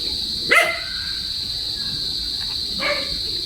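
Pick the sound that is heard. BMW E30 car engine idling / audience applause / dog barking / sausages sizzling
dog barking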